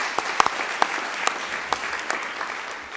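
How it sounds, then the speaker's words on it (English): Applause at a community college district board of trustees meeting for a water district candidate: a modest crowd clapping in a hall, with a few sharp, distinct claps standing out over a softer steady patter. "Give her applause, please."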